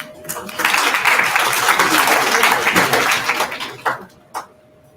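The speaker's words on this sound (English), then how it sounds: "A round of applause." A student audience at a university induction program claps in a steady burst for several seconds, then the applause thins out and stops, leaving a few scattered claps near the end.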